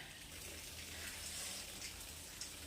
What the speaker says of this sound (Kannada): ಮಳೆ ಬರ್ತಾ ಇರೋದು ತೋರಿಸ್ತೀನಿ ರೀ ಒಂದು ನಿಮಿಷ